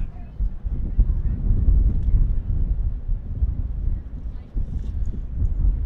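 Gusty wind at an outdoor high school girls' JV soccer game buffets the microphone in a steady low rumble that swells and dips, with a brief lull near the end.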